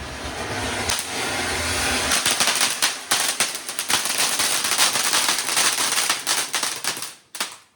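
Loud, dense crackling of a fountain firework set off during Diwali celebrations, a continuous stream of rapid pops and sputters that tapers off near the end.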